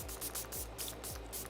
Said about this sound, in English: I'm gonna spray my face with the Tarte Stay Spray.